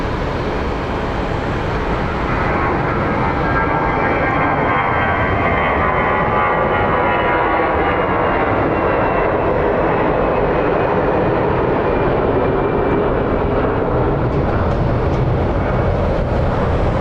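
An American Airlines Airbus A319 jet at Phoenix Sky Harbor International Airport, a loud steady engine roar holding at a constant level for the whole stretch with no voices.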